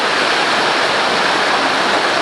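Waterfall cascading over rocks on the Watkin Path in Snowdonia, a loud, constant broadband rush of falling water heard close up, with no voices.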